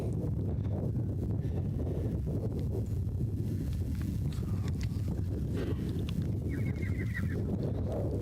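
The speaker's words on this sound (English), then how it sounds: "you may hear the wind whistling. It's blowing." Gusty wind buffets and rumbles continuously outdoors at a quarter horse sale, with low roaring noise and faint distant sounds in the background.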